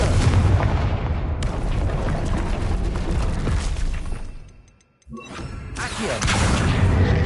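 Loud, dense booming blasts and crackle from Confringo fire spells in the video game Hogwarts Legacy, sustained and heavy with a brief near-silent dip in the middle before the barrage resumes.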